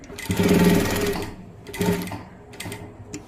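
Electric sewing machine stitching fabric in close, loud bursts: a long continuous run, then a shorter one, then a brief final burst, with pauses between.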